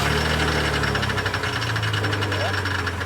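A Jeep engine running on a steep off-road trail, a steady loud rumbling idle with knocking vibration throughout, voices talking over it.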